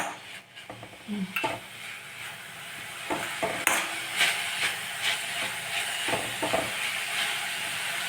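Rava roti mixture sautéing in a hot pan, a steady close sizzle broken by scraping stirs and clanks of a spoon against the metal, with no voices.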